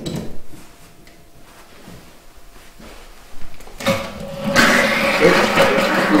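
A water pump dropped down a hole, hose run out a window, starts up after a quiet stretch of faint handling noise, then builds into a steady rushing whir that grows louder and stays continuous to the end.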